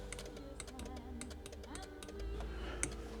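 Rapid, light clicking of relays in the seat module of a Mercedes W211 with a faulty electric headrest repeats in quick bursts over a low electrical hum.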